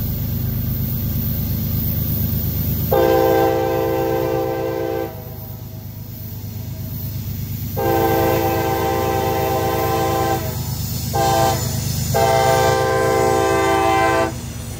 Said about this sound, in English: now we head over to SK Cabin, or Thelma, Kentucky, for a westbound loaded coal train